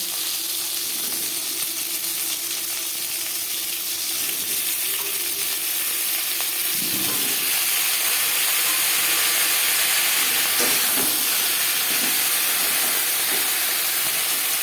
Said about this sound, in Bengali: পটল হালকা করে ভেজে নেব